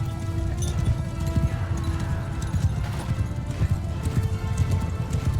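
Steady rhythmic hoofbeats of a galloping horse in Mount & Blade II: Bannerlord, continuous and fairly close, with a busy mechanical game-like background and no talking.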